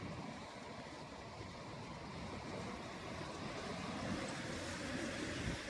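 Narmada river water flowing at low level, a continuous faint broadband rush like gentle rapids, steady and unbroken throughout with no voices.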